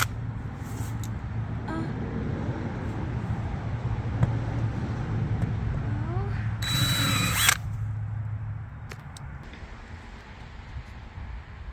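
A power drill whines briefly while drilling out rivets on a stripped Sea Ray boat, a short high burst over a low steady rumble and background hum, with faint clicks around it.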